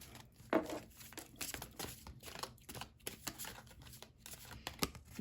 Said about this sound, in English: These cards like don't want to shuffle right now.